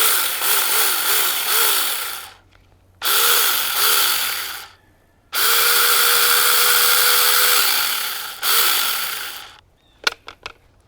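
Tomyvic 6-inch battery mini chainsaw cutting through a fallen cedar tree, running in three loud bursts with pitch dipping under load, separated by brief pauses and ending with a few short clicks.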